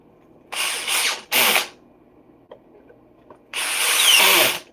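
Bolts on a full carbon frame being tightened by hand with a ratchet, heard as three close bursts of rapid clicking separated by quiet gaps and a few faint knocks.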